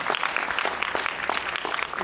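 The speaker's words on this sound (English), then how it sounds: "Please welcome our guests with a huge round of applause." Steady applause from an audience at a university guest introduction ceremony fills the whole stretch, dense clapping with no pauses and no clear voices over it.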